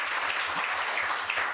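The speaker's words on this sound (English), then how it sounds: "one more round of applause for Chairman Omali Yeshitela" A brief burst of audience applause for Chairman Omali Yeshitela, a soft, even wash of many clapping hands at moderate distance.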